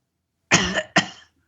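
Two sharp coughs in quick succession, close and fairly loud, rising abruptly out of silence and each trailing off with a rough, throaty tail.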